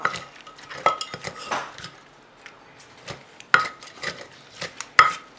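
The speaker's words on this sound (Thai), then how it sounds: "คลุกนิดนึงนะคะ ยั่วยั่วนิดนึงเขาเรียกยั่ว" A spoon or utensil stirs and tosses Thai cucumber salad dressed with fish sauce and a little sugar, giving scattered clatters and scrapes against a bowl in short bursts with quiet gaps between, close and fairly clear.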